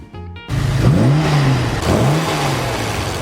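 A 1966 Aston Martin DB6 engine revs up loudly and close, rising in pitch, easing off, then revving again before settling into a steady run.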